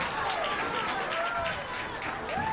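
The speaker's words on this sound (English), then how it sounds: "Crowd very appreciative of what's going on." Crowd at a girls basketball state final gives steady applause and cheering, a dense continuous roar throughout, with a faint announcer-like voice tone and a whistle-like rising tone near the end.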